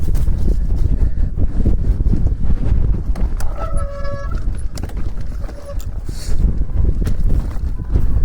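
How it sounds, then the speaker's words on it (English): Strong wind buffets the microphone on a mountain bike trail in the Lake District, a loud, continuous low rumble with gusty surges, while a brief tonal beep sounds partway through. "as you can hear, very windy"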